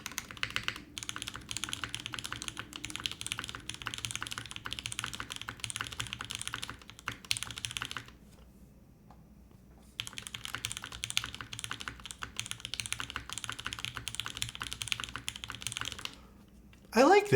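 Fast, crisp typing clatters on a Frost TKL mechanical keyboard with a top-mounted aluminum plate, keys firing in dense bursts split by a two-second pause, with a hollow metallic ring and a thump near the end.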